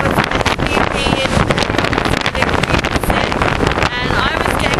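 Strong wind blasts across a ferry deck, buffeting the microphone in loud, gusty roars with an engine and water rush beneath, and a voice speaks briefly amid the noise.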